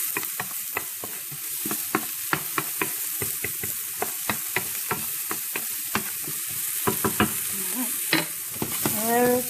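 Cauliflower fried rice with browned garlic is stirred in a hot pan. A soft, steady sizzle runs beneath a dense series of quick spatula taps and scrapes, ending in a louder surge of frying.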